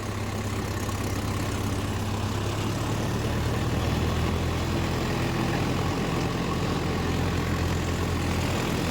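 A Mahindra Yuvo Tech+ 585 tractor engine drones under load while pulling a rotavator, a loud steady low rumble running unbroken throughout.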